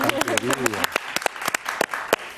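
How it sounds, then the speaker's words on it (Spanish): Studio audience applause on a television talk show, loud bursts of clapping over a brief stretch of talk at the start, then sharp scattered claps continuing alone. "un aplauso para mamá"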